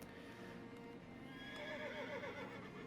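A horse in the video game Shadows Over Loathing gives a clear whinny that rises and shakes into a trailing neigh, quiet in the game mix with no talking over it.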